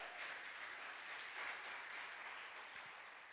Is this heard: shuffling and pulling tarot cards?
no